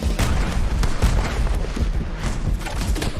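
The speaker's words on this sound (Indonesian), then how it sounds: "Marshal Bass menembak kepalanya dan menarik Ned ke tempat yang terlindung" Gunfire in a Western gunfight scene from the film The Harder They Fall: loud, dense bursts of shots and booming impacts crowd together in a continuous barrage.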